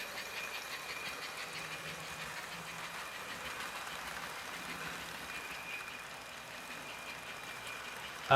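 A small American Flyer HO model train engine pulls a long string of cars, running steadily with a continuous mechanical whir and rhythmic clatter of wheels on track, fairly quiet and unaccompanied by voices.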